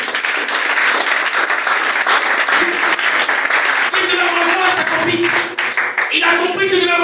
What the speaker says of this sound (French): Acclame ton Dieu ce matin.